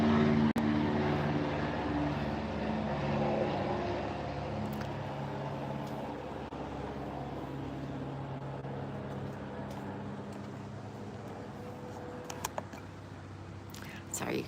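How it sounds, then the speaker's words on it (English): Faint, steady roar of an airplane passing overhead, a low broadband rumble that lingers throughout with only soft background sounds. "I don't want to talk over that plane"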